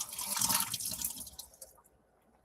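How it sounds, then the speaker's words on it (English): Soaking water from cashews poured out of a container into a sink, a loud splashing gush for about a second that tapers into scattered drips and ends with a small clink. "you want to throw out the water."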